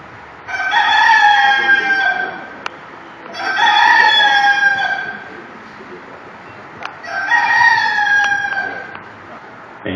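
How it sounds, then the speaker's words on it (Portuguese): A rooster crows three times in succession, each long call rising and falling, close and loud, during a staged Passion of Christ play with a faint murmur of background noise between the crows. "um galo cantou"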